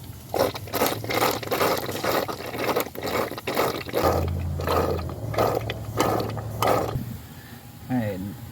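A ratchet clicks in quick bursts while bolts come off the oil cooler of a Chrysler 3.6L engine, close and fairly quiet, with a low mechanical hum and a brief voice near the end.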